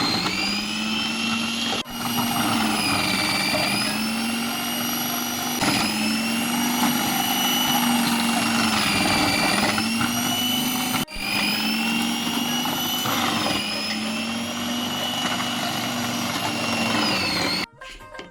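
Kitchen machine grinding chopped green apples for apple vorta, a loud, steady motor whine with a few brief dips where it stops and restarts, running alone with no talk.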